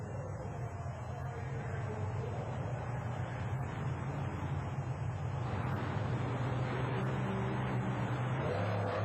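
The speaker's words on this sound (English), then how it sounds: "The trucks are staged, waiting for the green light." Deep, continuous engine rumble from monster trucks idling at a race starting line in Worcester, 1991, a steady loud drone with no break.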